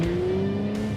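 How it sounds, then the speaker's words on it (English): An Audi S5 accelerates hard, its engine note rising in a strained, climbing whine over about a second, loud and close with no talking. "Acceleration then was pretty swift."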